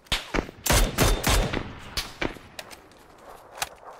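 Suppressed FAMAS rifle fire in a video game, heard as several sharp bursts and single shots over four seconds, with a dense cluster early on and scattered shots trailing off toward the end.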